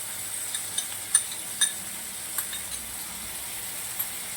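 Whisked sour yogurt added to sizzling kebab masala in a pan gives a soft, steady frying hiss with a few faint crackles and pops scattered through it.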